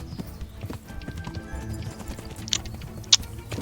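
A horse's hooves clip-clop in rapid galloping beats in the medieval video game Kingdom Come, fairly quiet and steady, with a couple of sharp brighter accents near the end.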